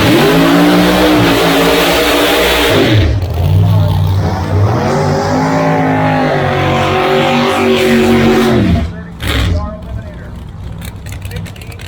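Drag racing cars, Outlaw 632 and Pro Modified door slammers at the Snow Bird Nationals, rev loudly in the staging lanes, engines rising and falling in pitch throughout, with an announcer talking over them.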